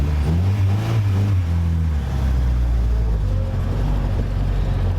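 The engine of a 1960 Triumph TR3A runs loud and close, a low steady rumble that dips in pitch early on as revs fall, then settles into an even idle.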